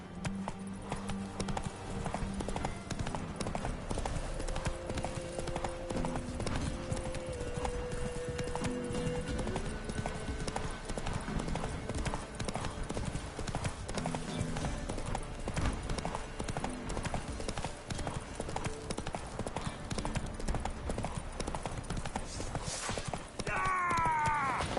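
Roach, Geralt's horse in The Witcher 3 on PS5, gallops with fast rhythmic hoofbeats over game music and ambience, a brief whinny near the end.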